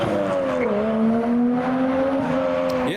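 A 500hp Toyota Chaser pulls away hard from a car meet, its engine note climbing steadily through the revs with a brief dip around a shift, loud and close with a hint of tire noise.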